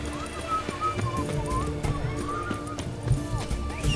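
Roach, the horse in The Witcher 3: Hearts of Stone expansion, neighs and whinnies several times over clip-clopping hooves, with game voices murmuring in the background.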